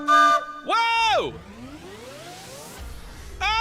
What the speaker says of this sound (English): That is the sound of the motherfucking hype train.